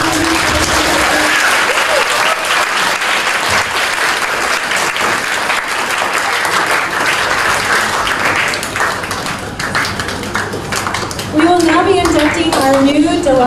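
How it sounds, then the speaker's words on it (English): A large audience at a Dalat middle school Junior Honor Society induction breaks into loud, continuous applause with scattered cheers, voices rising over the clapping toward the end. "let's give a big round of applause"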